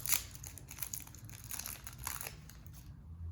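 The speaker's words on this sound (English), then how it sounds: "I'm going to take my Jolly Rancher candies that came in the bag, go ahead and unwrap them" Crinkly plastic wrappers are twisted off hard Jolly Rancher candies, close and quiet, with a busy run of crackling and crumpling.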